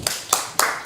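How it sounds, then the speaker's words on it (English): At a workshop, a few sharp hand claps follow a presentation, three distinct claps evenly spaced and close by, with no talking over them. "Applause to Elliot."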